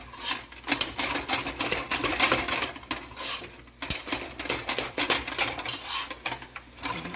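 A spoon stirs thick éclair cream filling in a pot with the heat off, giving repeated scraping and clinking strokes against the metal in an uneven rhythm, close and fairly loud.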